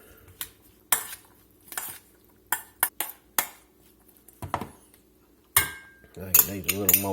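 Homemade pico de gallo with lime juice being stirred in a bowl with a utensil: a series of sharp, separate clinks and scrapes against the bowl, close and clear, quickening into rapid rattling mixing at the end, with no talking.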